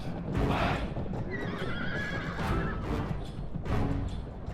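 Horse archers' horses in a Sassanid-era battle video game neigh and whinny over a thick, continuous rumble of galloping hooves, with a sharp high whinny rising mid-clip amid battle noise.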